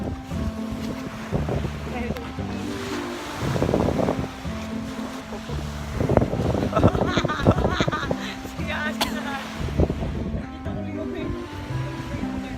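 Sea waves wash and surge nearby at Moalboal under gusty wind buffeting the microphone, with people talking intermittently over the rolling water.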